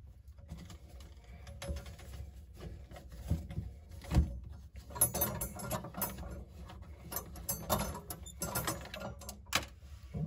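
Clicking, ratcheting turns of a plastic nut being unscrewed from a bathroom sink pop-up drain, a dense run of small mechanical clicks and rattles, close and moderately loud, with no talking.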